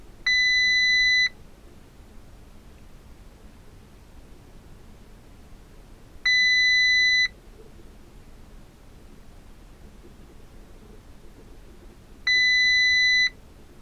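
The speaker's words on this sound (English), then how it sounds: "Your car is gonna beep like crazy, telling you that something's wrong" Three identical electronic warning beeps from an Audi RS3 during ECU flashing, each about a second long, sound at regular intervals of roughly six seconds over a faint background hiss.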